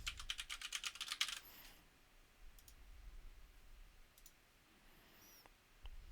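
A burst of quick keystrokes on a computer keyboard as an email address is entered, close and fairly quiet, followed by a few scattered clicks over a low background hum.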